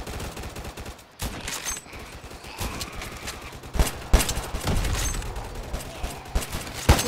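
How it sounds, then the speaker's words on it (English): Gunfire from a Roblox zombie shooter game crackles in scattered bursts and single shots over a chaotic background, growing denser and louder in the second half. "So many gunshots, it's so chaotic."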